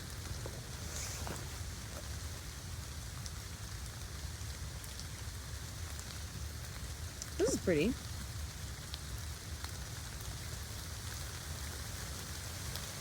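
Rain pours down steadily at a campsite in Tennessee, making a constant broadband hiss with a low rumble beneath it, and a voice speaks briefly partway through.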